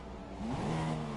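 An F1 car in a racing video game at the Canadian Grand Prix whirs and revs as it spins out, a brief, faint engine note that rises and wavers, with no voices.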